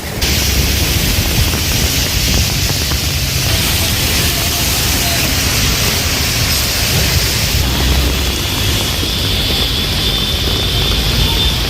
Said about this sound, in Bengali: এই যে দেখুন কি বৃষ্টি হচ্ছে